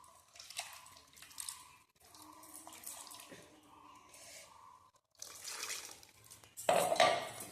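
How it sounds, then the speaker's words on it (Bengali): Water is poured into a pot of blended milk cream while homemade ghee is made, giving close, soft splashing and trickling in several bursts with brief pauses, ending in a louder splash. "জল দিয়ে দিচ্ছি"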